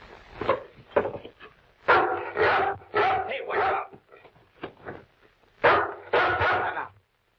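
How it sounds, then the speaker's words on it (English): A dog in an old radio crime drama gives a series of sharp barks and yips in uneven bursts, close and fairly loud, interleaved with short gaps. "That dog might be a killer."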